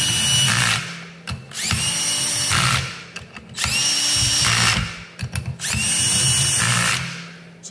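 Power drill running in repeated bursts while driving ring gear bolts on a Jeep Wrangler Rubicon Dana 44 axle, three long whining runs separated by short pauses and brief clicks, loud and close.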